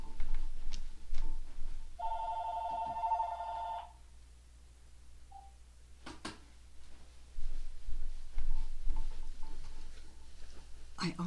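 A telephone rings indoors in one warbling electronic burst of about two seconds, fairly loud and close, with quiet talk before and after it.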